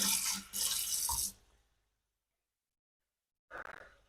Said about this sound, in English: put the pan into the sink, and then cool it off so it doesn't burn you